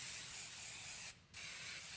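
Cooking spray hisses steadily from a can onto a preheated waffle maker, a loud continuous spray that breaks off briefly midway and then resumes.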